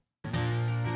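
An uncapoed acoustic guitar rings out in a studio mix after a brief silence, a single strummed chord with a bright attack and a full sustained tone that carries on clearly to the end.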